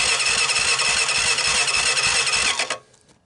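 A water-damaged vintage Honda Fourtrax 300 ATV engine cranks loudly and rapidly for about two and a half seconds with a rhythmic chugging whir, fails to catch, then cuts off abruptly into near silence.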